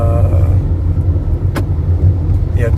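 An idling Toyota MPV engine holds a low steady rumble from inside the cabin, close and loud, with a brief click partway through; no clear rise in revs is evident.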